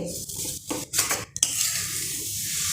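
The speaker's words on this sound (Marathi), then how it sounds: "आता ह्याला मिक्स करून घेऊयात छान गुळ आता आपला छान वितळलेला आहे" Melted jaggery being stirred in a pan with a metal spoon, scraping and clinking against the pan in a few separate strokes over a soft continuous sizzle, nearby and without talk.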